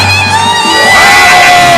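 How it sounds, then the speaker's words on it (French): A church congregation at a night prayer service erupts in loud shouts and whoops of victory, a massed swelling roar of voices filling the space. "Poussons des cris de victoire."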